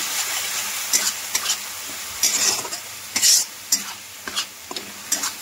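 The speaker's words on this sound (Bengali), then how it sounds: "এবার সবার একসঙ্গে আবারও মশলাটা ভালো করে কষিয়ে নেব।" Ground cumin and coriander stir-fried with spices in a pan for a Bengali dhokar dalna: steady close sizzling under repeated scraping stirs of a spoon against the pan, with no talking.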